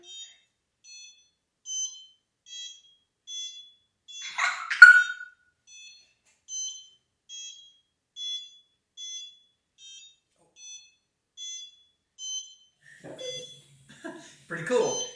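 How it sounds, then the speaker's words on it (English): A Cubroid coding block sound block gives a rapid series of thin, high electronic beeps in an even rhythm, with brief bursts of background noise and voices partway through and near the end. "we combined the sound block and the DC motor to make beep, a quick little program and have some fun with our Cubroid blocks"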